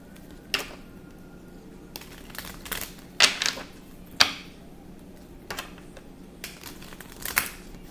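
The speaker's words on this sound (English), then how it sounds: "I'm going to shuffle." Tarot cards shuffled by hand, quiet crisp riffling bursts and soft slaps coming in irregular clusters over a faint hum.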